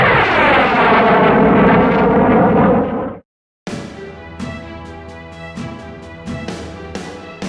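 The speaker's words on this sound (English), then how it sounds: "breaking the sound barrier" A fighter jet breaking the sound barrier: a loud, dense roaring rush holds for about three seconds and then cuts off abruptly, followed after a short gap by music with sharp percussive hits.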